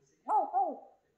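A grey parrot imitates a dog with a single short, hoarse, tonal bark-like call lasting under a second, close and clear against near silence.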